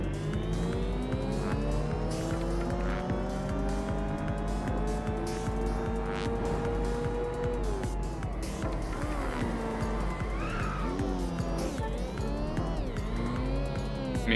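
Tires squeal steadily as a car drifts through corners in the racing game Inertial Drift, the engine droning with long sliding pitch sweeps and revving shifts, loud and continuous throughout.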